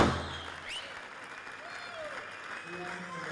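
Spectators at a squash world team championship applaud a powerful winning shot, with a burst of clapping at the start that settles into a softer, sustained patter of applause over a few seconds.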